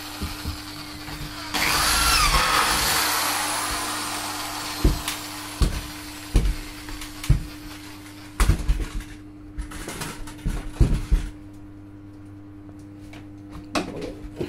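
A power drill bores into a handle on a hard case box, one loud whirring burst followed by a series of sharp knocks and clicks from handling the box, close by in a quiet room.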